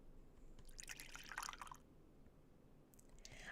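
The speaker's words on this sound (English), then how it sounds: "I added more water in a hurry." Water poured hastily in the video game Radiant Tale, a burst of splashing, trickling liquid in the first half, fading to quiet before a brief return near the end, fairly faint.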